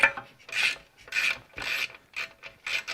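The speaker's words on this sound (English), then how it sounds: "You know it's rusty when the wrench kind of goes on." A wrench works loose a rusty 14 mm bolt on a 1969 Honda CB350 motorcycle, giving close, rhythmic ratcheting clicks and gritty scraping in short repeated strokes.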